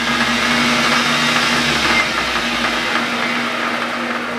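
A small model hit and miss engine with a governor runs steadily up close, a loud continuous mechanical whir with a constant hum and no pauses, heard alone without any talking.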